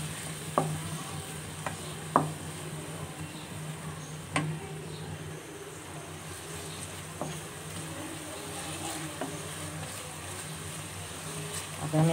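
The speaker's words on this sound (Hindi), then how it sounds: "ये प्याज, लहसुन, अदरक और ये हरी मिर्चें अच्छी तरीके से जो है हमने इसकी भुनाई कर ली है" Onion, garlic, ginger and green chillies frying in a pan, a steady sizzle broken by a few sharp scrapes and taps of a stirring spoon, close by.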